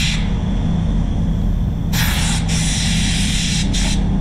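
A high-powered air blower from a paint shop setup gives a steady loud hiss, with bursts of stronger blowing partway through over a constant low rumble.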